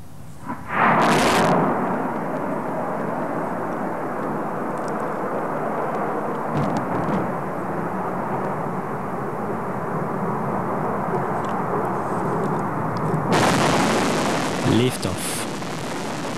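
Amos-2 satellite rocket ignition and liftoff heard as a broad, rumbling roar that swells abruptly and holds steady, distant and thundering, with a burst of crackling noise near the end.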